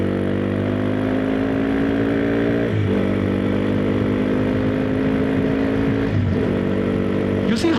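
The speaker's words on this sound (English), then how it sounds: "let's try and do clutchless upshift and downshift" A Hero Xpulse 210 motorcycle engine runs steadily while shifting gears without the clutch, its drone dipping briefly at each shift, close and continuous throughout.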